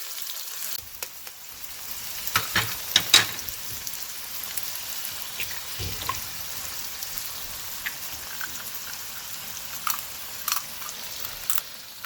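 Quinoa with eggs frying in a pan, a steady close sizzle with scattered crackles and the occasional scrape of stirring.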